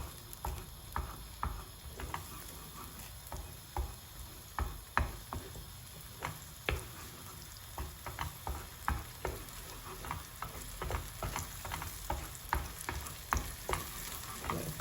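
Eggs with melting cheese fry in oil while being stirred: soft, quiet sizzling with a steady run of light scraping taps from the utensil, close by and without speech.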